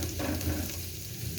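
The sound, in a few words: garlic and bell peppers sautéing in a pan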